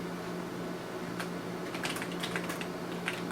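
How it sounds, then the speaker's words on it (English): Keys clatter in quick, uneven bursts as a message is typed on a keyboard hooked up to an IEE neon plasma display, over a steady electrical hum, moderately close and without speech. "So now I can actually type a message."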